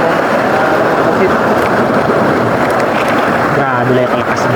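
Strong wind roars steadily over a Philippine boat landing where fishing boats are moored, a dense broadband rush filling the whole stretch, with someone talking briefly near the end.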